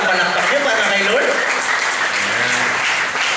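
Church congregation applause fills the space as a dense, steady wash of clapping lasting a few seconds, with a voice speaking over it partway through.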